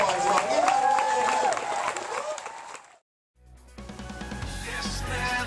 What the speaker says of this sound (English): the gator wrestler deserves a big round of applause. So give him a round of applause